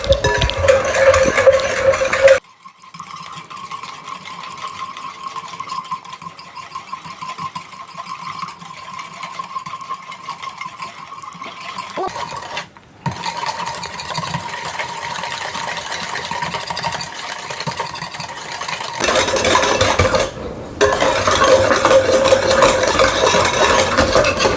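Homemade cake batter is mixed by hand with a whisk in a bowl, giving a steady soft stirring rattle and hum over a long stretch with brief breaks, with no talking.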